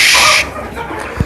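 Fighting roosters let out a loud, close squawk followed by softer clucking and scuffling noises in a short burst.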